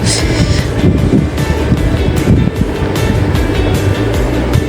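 Inside a passenger train running on the Kamalapur to Mawa rail line, a loud, dense rumble of wheels and carriage noise rolls steadily with faint rhythmic clatter.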